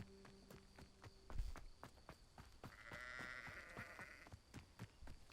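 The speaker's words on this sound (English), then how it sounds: "Goats and sheeps." Sheep and goats in a video game bleat several times over footsteps and other game sounds, with faint background tones and chimes.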